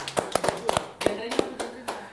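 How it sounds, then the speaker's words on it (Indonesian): An audience claps for a film's lead actor during an Indonesian talk show, a short burst of scattered, close hand claps with voices mixed in. "Kita tepuk tangan dulu."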